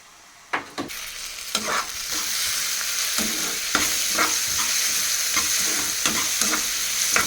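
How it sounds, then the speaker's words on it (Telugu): Onions frying in a pan, a steady close sizzle running throughout, broken by scattered stirring scrapes and clinks of a utensil against the pan. "ఉల్లిపాయలు అయితే వేగినవి"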